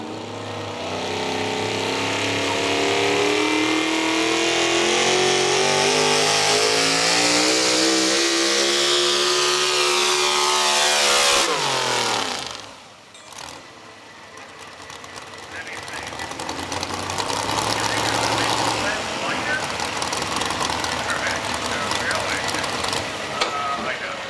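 A Chevrolet pulling truck revs hard during a sled pull, a loud sweeping engine roar with rising pitch that cuts off sharply midway, followed by a rougher, quieter engine tail and crowd-like background noise.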